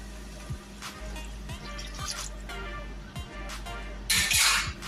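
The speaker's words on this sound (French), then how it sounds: "je viens directement rajouter le bouillon" Broth poured into a pot of green lentils already coated in fat, with steady low liquid splashing and a few clinks of utensils against the pot, ending in a louder burst of pouring.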